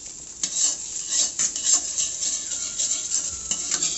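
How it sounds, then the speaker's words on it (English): Fried rice being stirred in a pan after red chili powder and salt go in, a steady scraping and clatter of a utensil against metal over a soft background sizzle, with a few sharper clanks, close and continuous. "Now add other ingredients like red chili powder and some salt. Now stir it properly."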